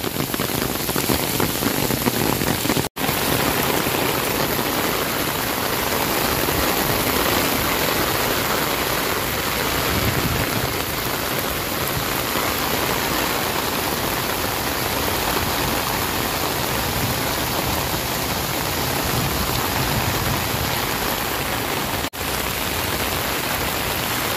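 Steady, heavy rainfall blankets Luneta park in a continuous, loud wash of hissing drops that carries on without letup.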